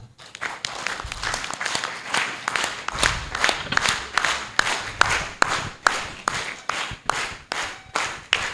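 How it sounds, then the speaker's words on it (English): Audience at the Uganda National Agricultural Extension Week 2024 clapping to welcome a speaker, a loose crowd applause with distinct individual hand claps popping out, some near and sharp, continuing steadily. "Please give a big round of applause."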